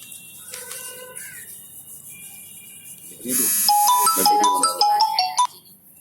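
A phone ringtone starts partway through, loud and close, a bright electronic melody of stepped tones; quiet voices and room noise come before it.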